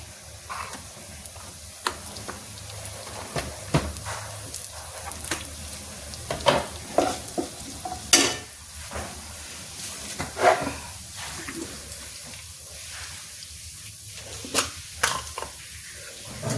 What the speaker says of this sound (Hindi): तेल गरम हो गया, इसे डाल देते जीरा